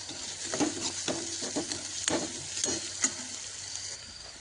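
Cumin seeds and garlic sautéing in oil in a pan, a low sizzle under a series of close spatula scrapes and taps, several strokes in irregular rhythm with no voices.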